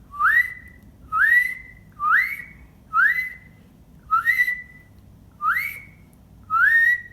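A person whistles seven short, rising notes that swoop upward and level off, evenly spaced about a second apart and clear over a quiet background.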